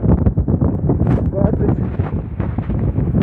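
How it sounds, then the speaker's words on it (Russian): Cold wind gusting across a high mountain near 7000 metres, a steady, loud rushing buffet against the microphone that fills the whole stretch without pause, with talk mixed in underneath. "Немножко холодно и дует."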